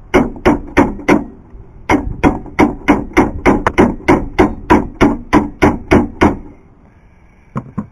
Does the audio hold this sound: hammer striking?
yes